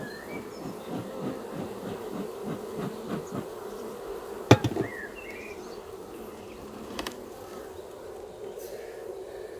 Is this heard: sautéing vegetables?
no